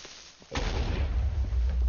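A creeper explodes in Minecraft with a sudden sharp blast about halfway through, then a heavy rumbling boom that stays loud and low to the end. A quieter stretch comes before it.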